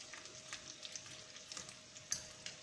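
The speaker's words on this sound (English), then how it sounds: "you just have to fry the kales for 5 minutes" Kale sizzles quietly in a frying pan, a soft, steady crackle with scattered pops and a brief louder spatter.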